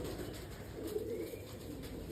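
Faint cooing of Baba Janta breed pigeons murmurs in the background, soft and low, with no one speaking.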